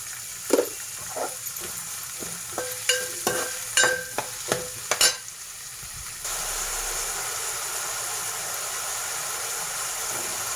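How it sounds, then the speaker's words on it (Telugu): Onions with salt cook in a pan: a run of sharp clinks and scrapes from stirring comes first, then a steady, even sizzling hiss settles in and carries on. "ఉల్లిపాయలు ఉప్పు వేసి మగ్గబెట్టేసుకున్నామండి"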